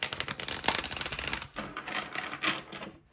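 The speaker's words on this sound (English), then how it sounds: "I just started shuffling like a crazy person" Tarot cards are shuffled quickly and repeatedly, making a dense, rapid run of crisp riffling clicks with a brief pause partway through, close up.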